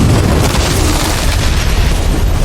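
A massive gas station explosion in a film erupts as a loud, continuous booming roar that fills the whole clip with dense, rumbling blast noise and no talking.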